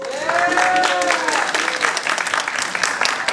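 A round of applause fills the hall after the final of a middle-school debate competition, dense and steady clapping from a large audience that holds at full level for several seconds, with a few tonal squeals ringing over it near the start.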